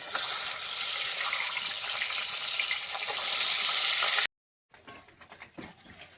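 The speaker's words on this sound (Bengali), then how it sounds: "এবার আমি মাছটা ভাজার জন্য দিয়ে দেবো।" Bata fish frying in white oil in a wok, a loud, dense crackling sizzle that runs steadily and then cuts out abruptly, returning as a softer, patchier spatter with a few small pops.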